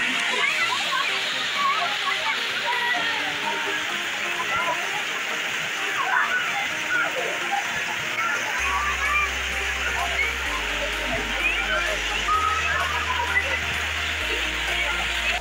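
Water from TK Falls near Bangalore pours and splashes in a steady broadband rush at close range, with faint voices of people scattered underneath.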